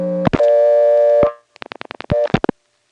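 Clicks of a step-by-step telephone switch on a recorded trunk line from 1977 Siler City, North Carolina: a steady tone breaks off into a rapid run of about eight sharp clicks, then another short tone burst and a couple more clicks.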